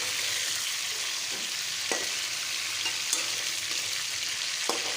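Chicken fries with garam masala in a pan for white karahi, a constant bright sizzle at moderate level, punctuated by a few soft clicks of a stirring spoon, with no one speaking.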